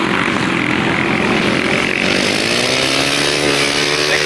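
A solo grasstrack motorcycle at the 1991 Bodiam meeting screams flat out on a wet track, its loud, continuous engine roar climbing steadily in pitch as it nears, with no gaps.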